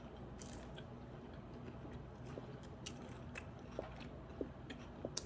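Someone bites and chews loaded tostones, fried plantains topped with sauce, at a food truck, giving soft close squishy crunches over a steady outdoor background hum.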